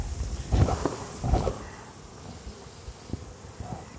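Honeybees are shaken into a bowl, two thumping bursts of knocking followed by a low, close buzzing hum of disturbed bees, with no talking.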